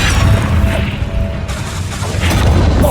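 The Glacius freezing spell cast in Hogwarts Legacy sounds as a loud, sustained icy rush and crackling boom, continuous and close for several seconds.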